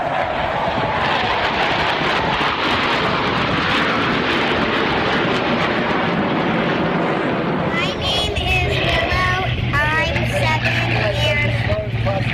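Loud, continuous jet engine roar fills the air as a plane passes low overhead, with a shifting whine toward the end.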